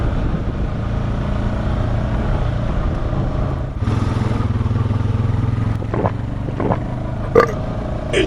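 A Honda Foreman ATV ridden on a dusty summer trail, a continuous close engine rumble that shifts in load, with a few brief clunks and knocks.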